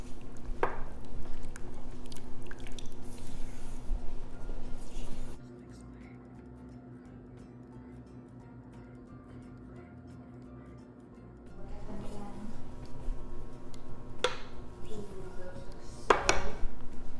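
Butter and chocolate stirred as they melt in a hot pan for Boston cream puffs: scraping utensil clinks and metallic pan clatter, close and moderately loud, with a quieter lull in the middle before the stirring resumes.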